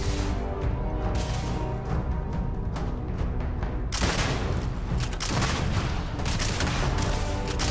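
Rapid bursts of gunfire and heavy explosions from grenades in a Starfield firefight, dense and loud throughout with sharp cracks layered over booming blasts.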